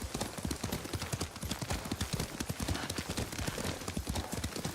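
Horse hooves clip-clop at a steady trot while riding in the video game Ghost of Tsushima, a dense, continuous rhythm of close hoof strikes filling the whole stretch, loud and alone with no talk.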